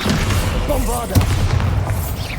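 A Bombarda spell blast in Hogwarts Legacy goes off as a loud booming burst about halfway through, over a dense, continuous rumble of game combat with some voice underneath.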